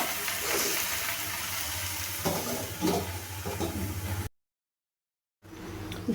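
Malabar spinach and prawns being stirred in a pan, with a steady sizzle and scraping for several seconds before a short silence, then the sizzle returns.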